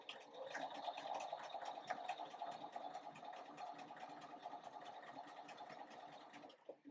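A sewing machine runs steadily for about seven seconds, stitching a quarter-inch seam with a continuous, even whirring hum close to the mic and no talking.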